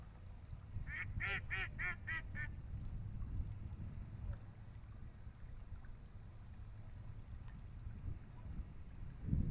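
Ducks quack in a short run of five or six nasal calls near a pond in Texas, fairly distant, over a steady low wind rumble and outdoor background noise.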